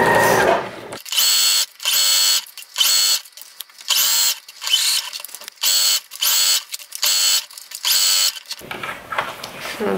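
A sewing machine stitches a curved seam on a Papercut Patterns Sapporo coat in short, repeated bursts of rapid whirring, about nine runs separated by brief pauses, close and clear.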